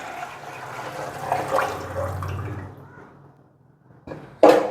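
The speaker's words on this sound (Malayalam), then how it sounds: "ഇനി നമുക്കിതിലേക്ക് നമ്മൾ അളന്ന് വെച്ചിരിക്കുന്ന വെള്ളം ഒഴിച്ചെടുക്കാം." Measured water poured into a pot of mutton curry, a steady watery pour that fades out, then a brief splash and clatter near the end.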